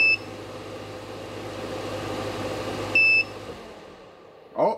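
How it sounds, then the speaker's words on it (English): A Bateria Power 600W portable power station sounds an overload warning as two short, sharp electronic beeps a few seconds apart over a low steady hum, close, with no talking. "Oh, we have a beep."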